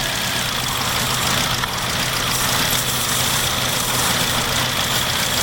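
2002 Nissan Altima with a faulty throttle body idling roughly, its throttle held open with a screwdriver, a loud, steady close engine drone with a slight uneven flutter and no voices.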